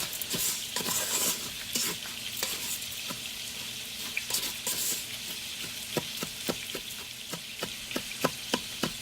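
Creamy ranch chicken and rice sizzles in a hot pan while a utensil scrapes and stirs, with quick repeated clicks and scrapes over a steady frying hiss.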